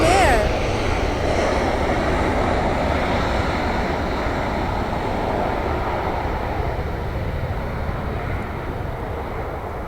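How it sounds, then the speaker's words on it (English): A Southwest airliner landing on the north side of LAX gives a loud, steady, close jet roar that holds broadband for the full ten seconds and fades only slightly toward the end. "we have Southwest landing on the north side"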